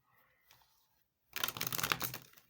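A deck of oracle cards is shuffled close by in a quiet room, a dense burst of riffling and flicking card noise lasting about a second after near silence.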